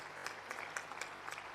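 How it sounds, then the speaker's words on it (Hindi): Audience applause after a speech at an event for the Chief Minister and Education Minister, a faint, steady patter of many hands clapping with scattered sharper claps over about a second and a half. "जोरदार तालियों से अभिनंदन करें उन भावनाओं का जो सर ने व्यक्त की हैं"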